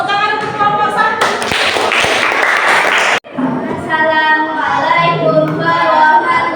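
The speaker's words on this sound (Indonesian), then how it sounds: "beri tepuk tangan untuk kelompok 1" Schoolchildren in a classroom applaud group 1 in a short, dense burst of clapping lasting about two seconds that stops abruptly, surrounded by loud young voices talking before and after.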